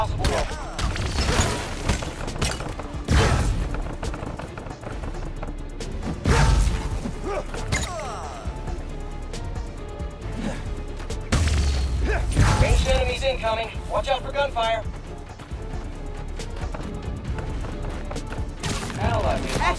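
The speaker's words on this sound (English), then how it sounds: "Watch out for gunfire." Gunfire during a combat sequence in Marvel's Spider-Man: Miles Morales, with bursts of shots, booms, clanks and shattering impacts mixed into busy game action, and voices talking throughout.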